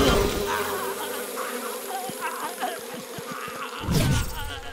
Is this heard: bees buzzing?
yes